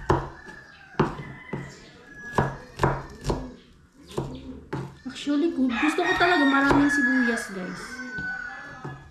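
A knife chops ingredients for a home-cooked dish, likely onions or garlic, with a series of sharp, evenly spaced thuds on a board. A rooster crows nearby and a person talks over the later part.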